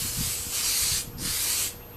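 Short bursts of spray paint hiss onto a handmade bonsai dish in thin coats, two close, steady sprays separated by a brief pause.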